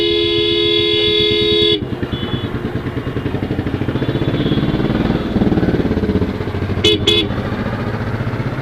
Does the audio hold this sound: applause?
no